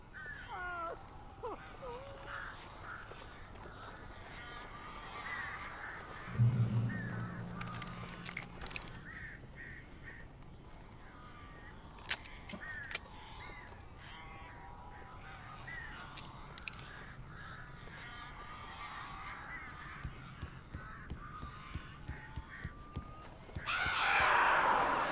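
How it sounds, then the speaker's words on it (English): Birds caw in Alan Wake Remastered, several scattered calls spread across a long stretch of eerie game ambience, with occasional talk over it. "These birds are weird."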